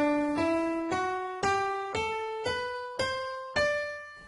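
Eight notes of a D Mixolydian scale climb one after another at an even pace, each a clear, sustained instrumental tone struck and left to decay, with no talking.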